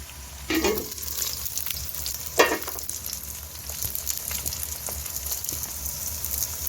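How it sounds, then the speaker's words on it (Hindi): Onion fries in a pan with cinnamon and cloves for chicken matar pulao, giving a steady close sizzle with a couple of louder stirring scrapes and spatters over a constant frying hiss. "तो अब हम इसको जो है वो फ्राई करते हैं"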